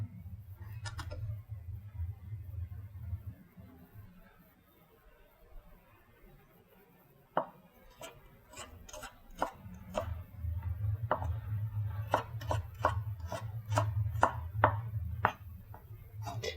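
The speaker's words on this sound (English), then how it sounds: "Ginger, it's easier to just kind of slice it into planks first." A knife slices ginger into planks on a cutting board, giving a string of sharp, evenly spaced taps in two bursts over a steady low background rumble.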